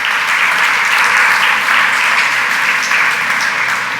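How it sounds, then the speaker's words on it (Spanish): A church congregation applauds during a Spanish-language sermon, a loud, sustained wash of many hands clapping that holds steady and full for the whole stretch. "Dale un aplauso al Señor, iglesia"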